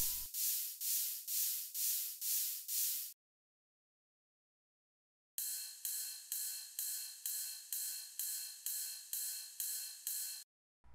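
A bright, hissy ride cymbal pattern in a progressive house track made in FL Studio, repeating in steady even hits, stopping for a couple of seconds, then returning with a thicker wash of layered ride cymbals.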